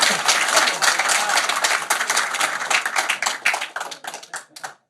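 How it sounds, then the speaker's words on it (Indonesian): Applause and clapping from a live audience at an Indonesian religious talk show, dense and steady before thinning into scattered claps that fade out, loud and close with faint voices mixed underneath. "Awas, tepuk tangan Pak."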